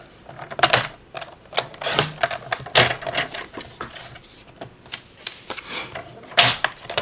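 Paper for a pop-up card is cut in a series of sharp, irregular snaps and clacks, close and fairly loud, spread across the whole stretch with short pauses between.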